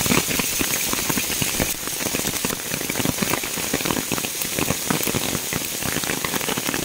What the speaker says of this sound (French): quand tu vas marcher dimanche matin et que tu te prends la grêle